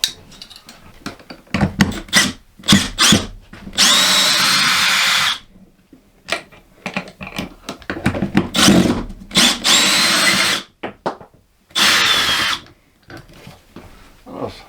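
Power drill driving lag bolts on a BAL slide room gearbox, repeated loud whining bursts of a second or two, separated by short trigger pulses and quiet gaps, close by with no talk.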